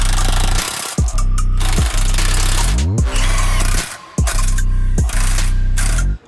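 Impact or ratchet tool driving a 15 mm socket on sway bar disconnect bolts of a Jeep JL Wrangler Sport, loud repeated mechanical bursts of rattling hammering, each lasting about a second with short pauses between.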